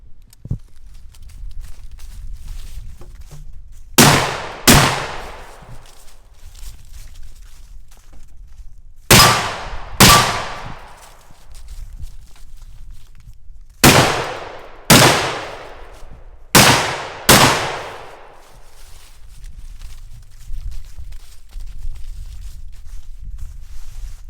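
Seven sharp gunshots from an AR pistol at a steel target range, fired in spaced pairs and singles, each a loud crack with a short echoing tail over quiet outdoor background.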